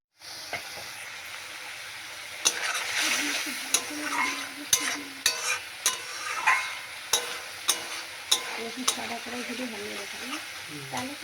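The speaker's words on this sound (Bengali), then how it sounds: "কষা চলছে এখন মশলা" Mustard-based spice paste sautéing in a pan for a Bengali small bata fish curry: a steady, close hiss and sizzle, with regular scraping stir strokes every second or so.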